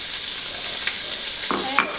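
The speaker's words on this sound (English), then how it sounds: "I'm gonna wait for just about like 30 seconds until the bacon is seared on one side before I start stirring" Bacon fries in a pan as a steady, soft sizzling hiss, with a brief scraping stir near the end and no talking.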